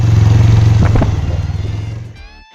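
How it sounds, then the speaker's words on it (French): A Suzuki V-Strom 250 with a Yoshimura exhaust revs hard and close, its loud engine note swelling with a couple of sharp blips before dropping off abruptly into near silence. "Le son que produit le moteur à haut régime se transforme tout simplement en musique pour les oreilles."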